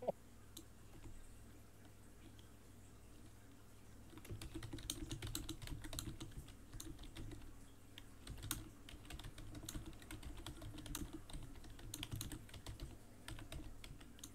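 Irregular, rapid clicking of computer keyboard keys, fairly close and steady throughout, growing busier partway through over a low background hum.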